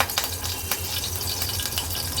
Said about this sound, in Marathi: आता फोडणीला कढीपत्त्याची पानं घालते.